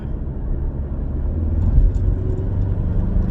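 A 2019 Ford Mustang EcoBoost is driven on the road, its engine and road noise forming a continuous low rumble that swells slightly as it accelerates, with no talk.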